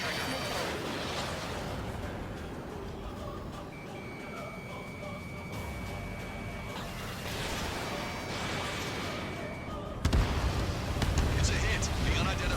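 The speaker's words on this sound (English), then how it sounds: "Missile. Finish him off, Trigger" Missile strike on an enemy jet in the combat flight game Ace Combat 7, with jet roar and a steady warning tone, then a sudden loud impact burst near the end, under radio voices.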